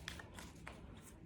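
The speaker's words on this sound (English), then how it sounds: "I'll have to shuffle it again." Tarot cards being shuffled by hand, a soft riffling and rustling with a few crisper flicks, close and steady throughout with no voices.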